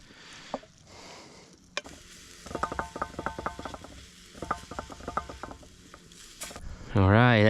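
Chunks of cheese and vegetables stirred in a pan over a campfire, with bursts of rapid ratcheting scrapes and clicks from the utensil against the metal, a faint sizzle between them, and a sharp rising tone at the end.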